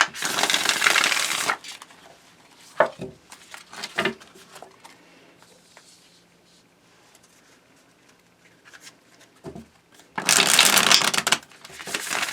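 A tarot deck is shuffled by hand in loud dense riffling bursts at the start and end, with scattered soft card taps and flicks in the quieter stretch between.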